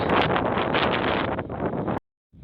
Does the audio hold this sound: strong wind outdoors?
yes